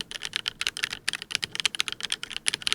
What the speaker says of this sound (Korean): 커스텀 키보드가 드디어 도착을 했습니다